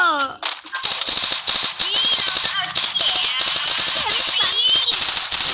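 Rapid bursts of video game gunfire, loud and continuous, with sharp repeated shots under an excited voice talking.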